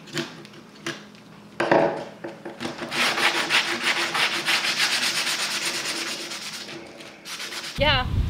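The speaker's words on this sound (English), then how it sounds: "There are definitely some sharp edges on here that'll need to be sanded down." Sandpaper rubbing over the sharp edges of a frisbee made of resin-hardened yarn, a steady scratchy scraping that swells from about two seconds on, close and continuous with brief pauses.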